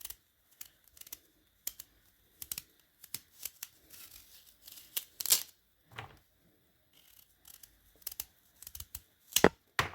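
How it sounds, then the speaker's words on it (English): A smooth knife peels mini sweet potatoes, or yams, in short scraping strokes. The strokes come close and in irregular bursts with quiet gaps between them. "So I'm going to take this knife and start peeling"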